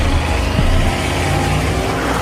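A car drives down a mountain, its engine giving a loud, steady drone with a brief rise in revs, heard alone without any voices.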